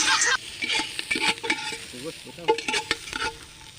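Onion and ginger sauté and sizzle in a pan while being stirred, with a steady frying hiss and repeated scraping strokes, close and fairly loud with no talk.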